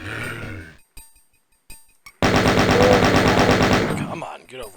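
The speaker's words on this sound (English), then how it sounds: "So I'm going to gun down the chain gunner so he's not a problem later." A chain gun in Doom 2 fires in a loud, sustained, rapid stream of shots, preceded by a few short, choppy bursts separated by brief silences, with a grunt-like voice near the end.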